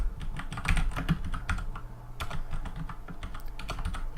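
Class rules for rotator buttons are typed on a computer keyboard, a close run of brisk, uneven key clicks and thumps that keeps going with brief gaps, no voice over it.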